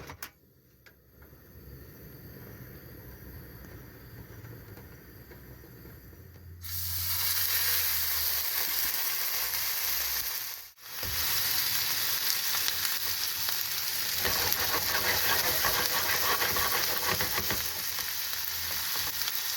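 Food hits a little oil in a pan inside a camper van. After a quiet hum, a loud, close, steady sizzle bursts in, briefly drops out, then hisses on strongly.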